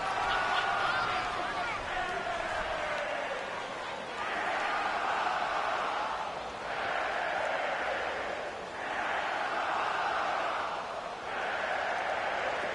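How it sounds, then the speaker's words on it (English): A stadium crowd in a PS4 football game swells in broad waves of cheering behind steady play-by-play commentary, rising and falling several times as a big third down approaches in a Detroit game. "the crowd getting into it as we come up on a big 3rd down"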